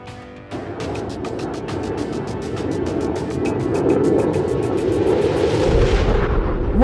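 Fragmentation bombs from an air strike explode over a target as a dense, continuous roar of blasts and rumbling, loud and sustained and swelling toward the end, with no voices.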